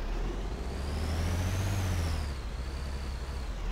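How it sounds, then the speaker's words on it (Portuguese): A truck drives in the military video game ARMA 2, its engine rumbling steadily and loud throughout, with a thin whine rising and falling above it and no voices. "O caminhão, cara."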